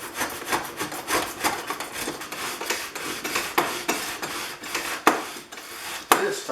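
A Stanley 444 dovetail plane cuts wood against a fence on a batten board in quick, repeated short scraping strokes, close and rhythmic, with no talk.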